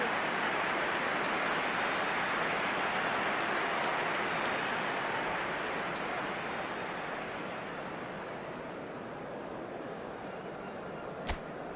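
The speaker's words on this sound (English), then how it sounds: "We have heavy rain." Heavy rain in the eFootball video game, a dense steady hiss of downpour filling the whole scene, easing slightly toward the end, with a single sharp click near the close and no voices.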